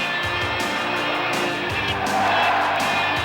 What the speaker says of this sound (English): Ready for some monster truck action.